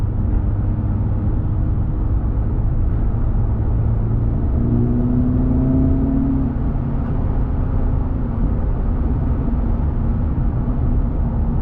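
An Acura Integra Type S engine drones steadily from inside the cabin as the car accelerates in third gear, a loud, continuous low rumble with a rising tone partway through.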